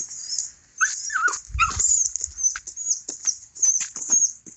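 Small dogs, three adults and three puppies, yipping and whimpering in short high-pitched bursts, with a few lower barks mixed in, fairly close by.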